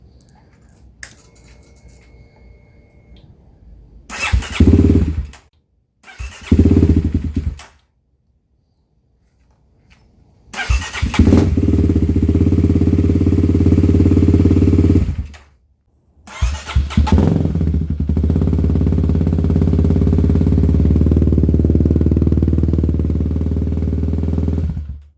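A motorcycle engine is cranked after two weeks of sitting and a fix to a lean fuel map. It fires briefly twice with gaps between, then catches and runs loud and steady, dies for a moment, and restarts to a sustained idle.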